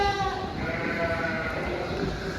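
Four-month-old female Merino breeding lambs bleat in a flock, overlapping calls from several animals at close range with steady livestock background noise.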